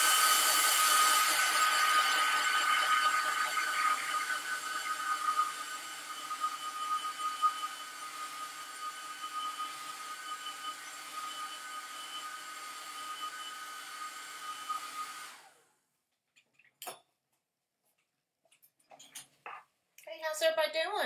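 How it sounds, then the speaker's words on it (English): A hair dryer blows with a steady, airy whoosh for about fifteen seconds, then cuts off, leaving quiet with a few brief knocks. "now I'm going to dry mine with the hairdryer"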